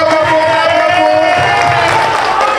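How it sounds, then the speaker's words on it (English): An audience claps and cheers loudly for a young performer named Nathan, a thick roar of crowd cheering and whoops with clapping blended in, close and continuous for a few seconds. "Clap it up for him."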